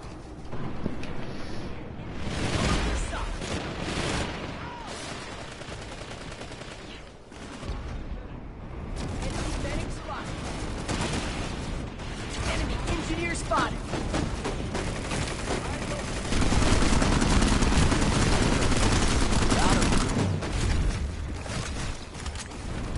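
Dense, sustained automatic gunfire from an auto turret in a video game rattles on loudly for the whole stretch, with no break in the shooting.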